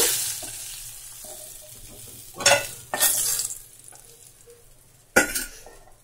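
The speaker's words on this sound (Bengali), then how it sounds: "আর দেখো ভাজা করে নিচ্ছি। দেখো আমি একটা পাত্রে এবার মাছের মাথা তুলে রাখবো।" Fish heads fry in hot oil with a soft continuous sizzle, broken by a few sharp bursts of crackling and the scrape of stirring in the pan.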